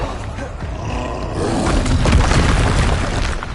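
Confringo, the explosive fire spell from Hogwarts Legacy, lands as a heavy, roaring boom that swells midway and rumbles on in a loud, sustained burst.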